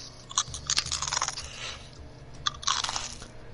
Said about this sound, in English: Today we're going to be chewing some chips in a mic.